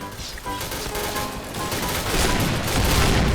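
Sustained rapid gunfire from a championship-only gun in a video game, a dense continuous rattle that grows louder toward the end, with no talk.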